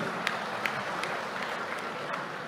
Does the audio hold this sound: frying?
no